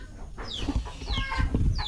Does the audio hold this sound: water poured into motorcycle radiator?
no